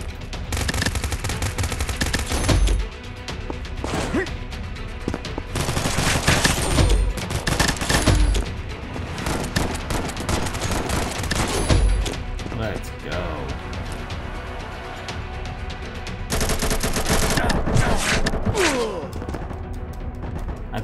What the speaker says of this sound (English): I think I'm on the AK or some variant of it. I'm just not a fan of this gun. Too much recoil on that.